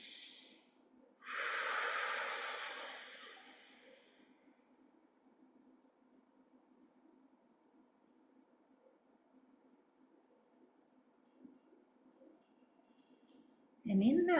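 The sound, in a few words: deep breathing in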